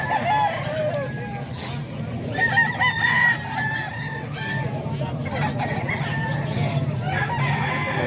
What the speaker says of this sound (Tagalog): Manok dito sa Kalumpit.